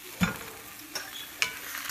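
Ramps or leeks being stirred in a frying pan: a soft sizzle runs throughout, with a few brief scraping stirs standing out.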